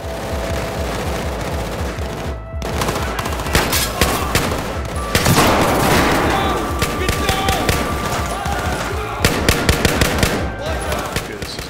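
Rapid automatic gunfire and scattered single shots from a Battlefield 4 campaign firefight in the Kunlun Mountains on Xbox One, loud and continuous with bursts throughout, while a player talks over the shooting.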